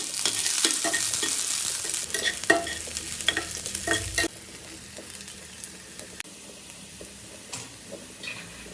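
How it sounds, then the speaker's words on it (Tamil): Dried chillies and chopped onion fry in a pan until golden, with a dense hiss of oil and clattering stirring strokes that are loud at first and then settle into a quieter, sparser sizzle. "காஞ்ச மிளகாய் எடுத்து சின்னதாக கட் பண்ணி சேர்த்துடுங்க. அதோடு பாதி வெங்காயம் எடுத்து கட் பண்ணி சேர்த்து கோல்டன் கலர் ஆகிற வரைக்கும் விடலாம்."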